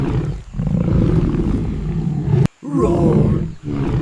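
A lion's roar, loud and strong, fills most of the span as a deep, rumbling, sustained growl with a short break near the middle. It then resumes, close and forceful, with no talk over it.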